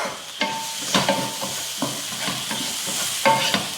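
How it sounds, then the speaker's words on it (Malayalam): Beef roast being stirred and fried in a pan, a steady sizzle broken by repeated scraping clinks of the spoon every second or so, close up with no talk. "ഞാൻ ബീഫ് റോസ്റ്റ് ഉണ്ടാക്കുന്നുണ്ട്"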